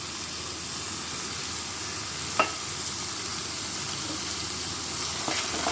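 Egg and sliced yardlong beans frying in a pan with a little salt, a steady, fairly faint hiss and sizzle throughout with one or two small utensil taps, no one talking.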